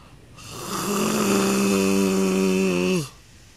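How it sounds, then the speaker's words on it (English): One long, loud yawn with a rough, droning voiced tone that swells, holds for a couple of seconds, then drops off abruptly. "You just yawned like the biggest mouth yawn possible."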